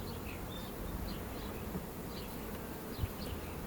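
Steady close buzzing of many honey bees at a hive in mid-April, a low continuous drone with occasional louder passes of individual bees nearby.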